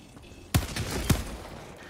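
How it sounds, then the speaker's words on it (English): Pistol shots in the video game Helldivers 2: two sharp, loud reports about half a second apart, each with a short ringing tail, over quiet background ambience. "I've got my little pistol."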